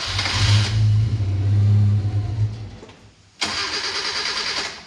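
A restored Suzuki Stockman LJ81 with a carburetor engine cranks and catches, a loud rough engine note for a few seconds that dips and fades, then a second burst of engine noise picks up, close by with no talk.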